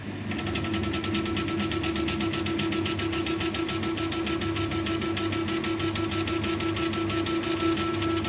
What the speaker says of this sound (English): I'm very pleased with this high frequency impact engraving